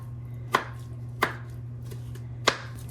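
Three sharp knife chops on a cutting board, spaced unevenly, as garlic and red pepper are chopped, close and crisp over a steady low hum, with no talking.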